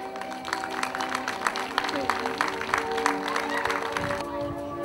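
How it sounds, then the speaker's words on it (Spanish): Audience applause at a neighborhood festival, a steady patter of many clapping hands over several seconds, with a constant background tone and some talk underneath. "Damos un fuerte aplauso a Doña Erasma."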